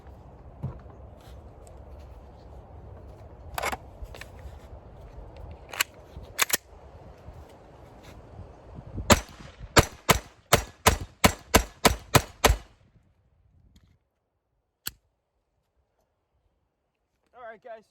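A Glock 44 pistol fires .22 LR rounds, first a few scattered cracks over background noise and talk, then a rapid string of about eight sharp shots, followed by quiet with one later click.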